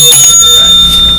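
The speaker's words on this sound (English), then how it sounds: "2 bells." A pair of bright bell rings, like a bicycle or desk bell, sounding during a call-in show, with faint background hum and no talk over them.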